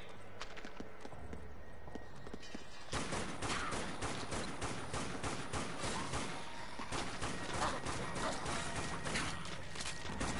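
Rapid bursts of gunfire from the zombie shooter game Dead Nation, dense and continuous after a quieter opening, with rattling shots layered over game sound effects.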